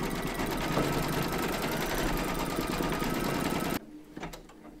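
An embroidery machine stitches a quilting round on an in-the-hoop crazy patch quilt block, a fast, steady mechanical whirring that runs loud and continuous before cutting off abruptly near the end, leaving a few faint clicks.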